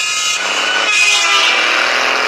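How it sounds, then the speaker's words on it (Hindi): A loud, sustained horn from a passing truck blares continuously, close by and overpowering, with no other sounds breaking through. "एक जोरदार आवाज आई जो उनके बगल से गुजरती हुई ट्रक के हॉर्न की थी"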